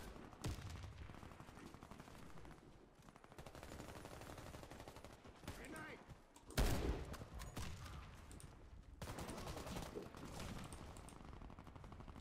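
Heavy Truvelo CMS 20x42mm rifle fire in the Warface video game, a series of loud booming shots and bursts spread through the clip amid dense game noise, with one especially sharp blast near the middle.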